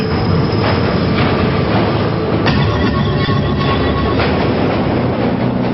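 Subway train rumbling loudly and continuously past, with dense rail noise, clatter and brief metallic squeal throughout.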